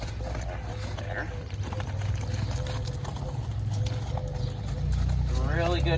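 Hooves of a young horse moving around a pole pen, a steady clip-clop of footfalls at close range under ongoing talk, with low background rumble.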